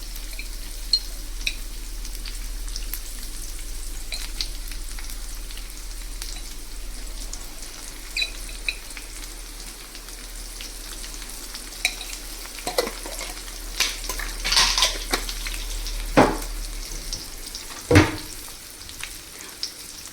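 Onions and turmeric frying in a pan with a continuous soft sizzle, low hum beneath, and a few sharp stirring clacks and taps toward the end, close by with no talk.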